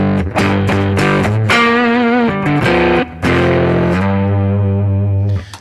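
Electric guitar through a Fender amp emulation with the gain turned all the way up, ringing out loud, saturated chords and sustained notes with a short gap near the middle, playing alone without talk.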